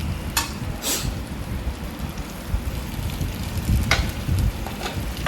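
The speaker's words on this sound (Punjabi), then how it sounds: "ਕੜਛੀ ਨਾਲ ਨਾ ਚੰਗੀ ਤਰ੍ਹਾਂ ਨਾਲ ਮਸਾਲੇ ਚ ਮਿਲਾ ਦੇਣਾ ਹੈ ਆਪਾਂ" Taro (arbi) curry is stirred into masala with a ladle, a soft sizzling under scraping and clinking strokes against the pan, with a few sharper metal taps standing out.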